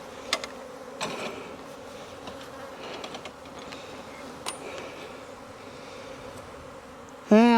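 Honeybees swarm around an opened hive during a strip treatment, a dense, steady buzz filling the air close by, with a few sharp ticks and a sudden loud burst right at the end.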